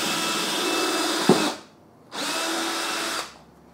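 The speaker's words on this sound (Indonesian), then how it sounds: "Saran saya sih dibor dulu supaya memudahkan pemasangan skrupnya." Power drill boring a pilot hole in 18 mm OSB board, two close, loud whirring runs of about a second each separated by a brief pause, with no voices.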